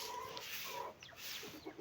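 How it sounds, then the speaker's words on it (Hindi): Chickens cluck close by in a yard while pecking at scattered grain, a soft, steady stream of short clucks over faint background noise. "ये सारी की सारी मुर्गियाँ चाचू जी की हमारी नहीं"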